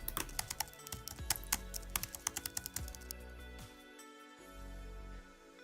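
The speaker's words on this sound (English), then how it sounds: "Here is a comparison between two keyboards, one being the 2016 keyboard and one being another standard Apple keyboard as on previous laptops." Rapid typing on a 2016 MacBook Pro keyboard and then on an older standard Apple laptop keyboard, crisp close key clicks in quick bursts with a slightly different texture in the later part.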